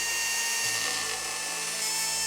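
A power tool whines steadily at close range while trimming down a mounting tab on a Toyota Supra side skirt during a restoration, a continuous high grinding buzz with no talk.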